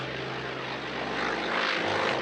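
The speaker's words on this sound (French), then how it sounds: "Le T-28 Trojan reconnaissable à son bruit." A T-28 Trojan's 1450-horsepower propeller engine drones steadily, a deep throbbing hum that swells slightly louder toward the end as the plane passes.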